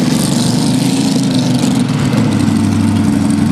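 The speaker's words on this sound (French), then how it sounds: "C'est une Chevrolet qui est propulsée par un moteur Chevrolet." A pulling tractor's Chevrolet engine runs at a steady, loud idle with a constant low rumble and no break for the full few seconds.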